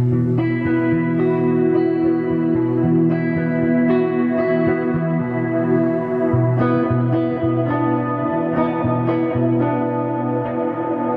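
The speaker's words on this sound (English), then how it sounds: "here's just one setting of the Specular Tempest." Electric guitar played through a Specular Tempest reverb pedal, chords and single notes ringing out with a wide, washy reverb tail and echoing repeats, sustained and loud with no talking.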